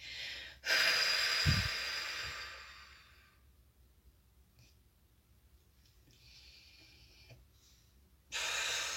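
Deep, slow breaths during a meditation exercise: one long, loud airy exhale up close, then quiet stretches with faint shifting before another breath begins.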